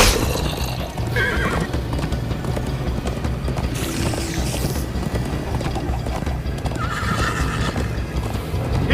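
A horse in the Minecraft Story Mode video game neighs loudly over a steady, continuous clip-clop of galloping hooves, with busy game sound all around.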